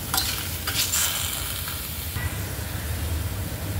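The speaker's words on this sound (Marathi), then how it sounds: "त्यात आपण हे टमाटर आणि कांदा भाजून घेऊया।" Tomatoes and onion frying in a pan for a cauliflower dish, a low steady sizzle with a few scraping stirs early on, close and moderately quiet.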